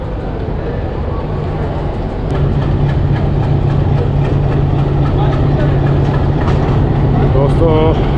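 The diesel locomotive of the Thall Express idles close by with a deep, steady rumble that thickens after a couple of seconds, while someone talks over it throughout.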